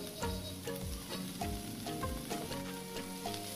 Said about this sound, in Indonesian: Kemudian diaduk rata sampai daun sawinya itu nampak layu.